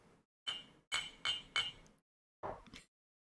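Tea cup clinked several times, sharp bright ceramic taps in quick succession followed by a softer double clink, close and alone in a quiet room.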